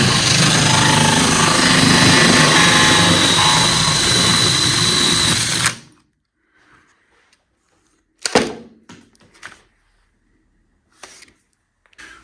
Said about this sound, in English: With my impact driver and these, they look like 32mm drywall screws